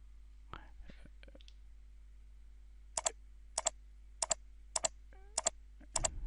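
Crisp mouse clicks on points in CAD software during a cadastral plan drafting task, about eight sharp clicks spaced roughly evenly, some in quick pairs, quiet and close against a faint background hum.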